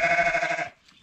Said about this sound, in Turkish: Koyunlar.